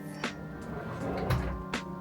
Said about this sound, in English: These are very heavy doors.